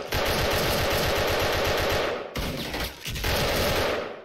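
Sustained automatic fire from an M16A2 rifle in the online shooter Special Force, loud dense rapid bursts with a brief break near the middle before firing resumes, no talking.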